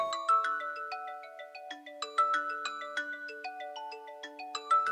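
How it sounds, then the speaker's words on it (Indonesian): A phone ringtone plays a bright, repeating electronic melody of descending chime-like notes in an office during a meeting, steady and clear for about five seconds with no talking. "Saya terima telepon sebentar."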